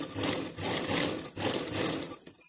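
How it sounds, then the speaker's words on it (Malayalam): A sewing machine runs a stitch along the edge of a blouse placket facing, two close bursts of fast, even whirring separated by a brief pause, then trailing off. "നമുക്ക് ഇതിനോട് അരികിനോട് ചേർത്തൊരു സ്റ്റിച്ച് കൂടി"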